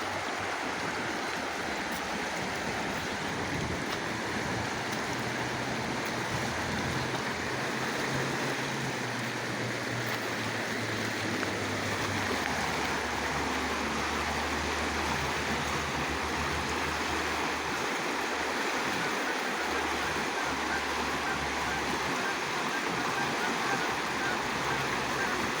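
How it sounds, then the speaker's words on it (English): Rapids on the Lewis River rush over big rocks at low water, a loud, unbroken churning roar lasting throughout, with faint geese honking over the water later on. "the rapids are getting bigger now that the river's going down"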